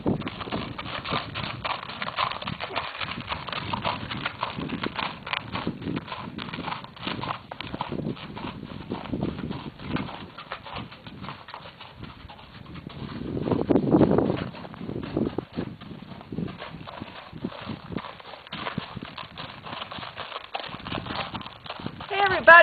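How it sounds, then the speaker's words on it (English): A horse walked outdoors on a bright sunny day in Idaho, steady clip-clopping hooves running throughout beneath a person talking, with a brief louder rustle partway through. "Everybody just enjoying a bright sunny day here in Idaho, walking my horse Jules."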